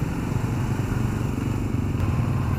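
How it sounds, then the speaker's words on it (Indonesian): A 2018 KTM Duke 390 sits with its radiator fan running over the idling engine, a steady low whir and hum heard close and unbroken throughout. "Tuh kipasnya udah mulai nyala,"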